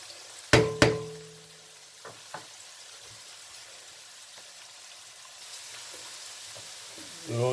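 Onions fry in a pan for a Punjabi-style mixed vegetable curry, with a couple of sharp utensil knocks, then a soft steady sizzle that grows a little louder toward the end.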